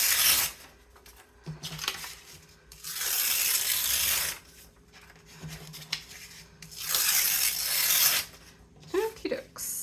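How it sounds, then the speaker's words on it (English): Paper torn by hand in several long rips, each a bright, close ripping burst of a second or so, separated by quieter handling and rustling, with a short voice sound near the end. "Okay, so let's tear this."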